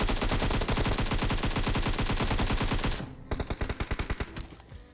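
Rapid automatic gunfire in the mobile battle royale game PUBG Mobile, a dense, loud burst for about three seconds, then a brief pause and a shorter, sparser string of shots.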